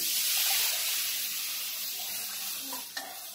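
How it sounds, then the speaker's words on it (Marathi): Water goes into a hot pan for patwadi, a loud continuous hiss and sizzle that holds steady, with a small clatter near the end and no talk. "आणि आता आपण पाणी टाकून घेऊया।"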